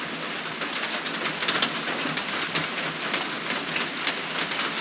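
Steady rain falls around a cabin porch, a dense, even hiss with faint scattered drips and patters, continuous and fairly soft, with no voices.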